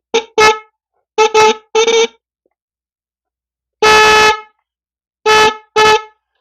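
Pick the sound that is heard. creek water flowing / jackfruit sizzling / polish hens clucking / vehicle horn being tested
vehicle horn being tested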